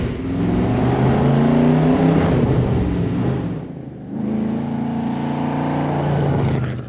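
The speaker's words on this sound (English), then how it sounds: "You got a reliable, powerful Chevy V8 in it." A vintage Scarab race car with a Chevy V8 engine roars loudly and steadily nearby, revving with a brief dip in the middle before the deep engine note returns.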